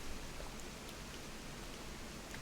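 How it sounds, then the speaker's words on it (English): Steady, soft rain in Animal Crossing hisses continuously with faint scattered droplet patters, even and unbroken throughout. "It's raining here as well"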